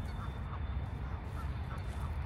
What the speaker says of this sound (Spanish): Miren cuánto pato